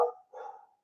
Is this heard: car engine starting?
no